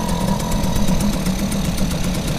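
An outboard engine idles on a 707 sailing boat, a steady close rumble with a regular throbbing pulse and no voices.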